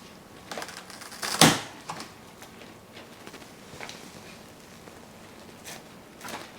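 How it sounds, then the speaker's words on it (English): A houseplant stem being cut for propagation, a single sharp snip near the start followed by a few faint clicks and rustles, close and quiet with no talking. "So now I'm gonna go ahead and cut her."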